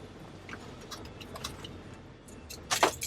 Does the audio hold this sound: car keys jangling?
yes